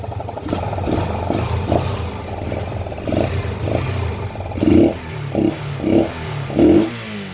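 A motor idles unevenly with a rough, sputtering rumble, broken by a few louder revving bursts toward the end.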